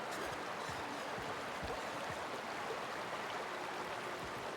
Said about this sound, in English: the waterfall's a good spot to wash your clothes